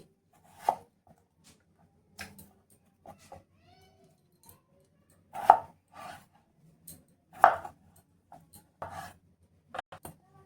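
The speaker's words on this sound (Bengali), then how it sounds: "এই যে দেখো আলুগুলো আমি একটু ছোট ছোট টুকরো করে কেটে নিয়েছি" A knife cuts potatoes into small pieces, making sparse, irregular sharp chops of varying strength against a quiet background.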